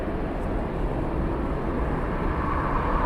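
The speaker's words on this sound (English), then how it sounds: "RYANAIR taking off." A Ryanair airliner taking off at night from East Midlands Airport, a steady, distant low roar of jet engines that holds evenly throughout.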